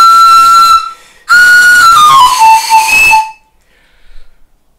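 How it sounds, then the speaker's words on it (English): Loud, breathy notes from a seven-hole panpipe in two blown phrases, the second sliding downward through several pitches before stopping, followed by quiet. "I'll give you a sound sample of this 7-hole one."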